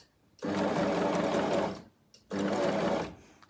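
A sewing machine stitches tape binding onto fabric in two loud, close, buzzing bursts separated by a short pause, with no talking.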